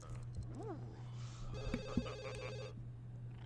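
A telephone rings in The Sims 2 as a short electronic ringtone burst over a steady background hum, with a faint voice-like warble just before it.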